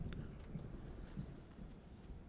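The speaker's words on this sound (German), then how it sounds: "Ja, schon kommt Gewitter." Stormy ambience in the Alan Wake II video game, with a steady low rumble of rain and distant thunder running throughout at moderate level, and no voices.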